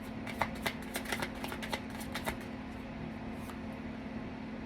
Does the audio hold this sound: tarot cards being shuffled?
yes